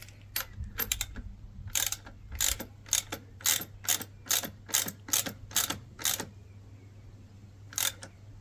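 A ratchet wrench torques the bolt on a custom high fender mount of an Aprilia Tuareg 660 motorcycle: rapid sharp clicking strokes in a steady rhythm, close and crisp over a low hum, ending with a single final click.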